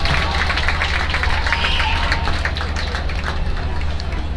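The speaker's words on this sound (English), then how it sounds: "There goes the gentleman that sang, getting a nice round of applause as he walks down the steps." Crowd applause in the stands at a high school football game between Austin High and Dripping Springs after the national anthem, a broad distant wash of clapping and cheering over steady low rumble.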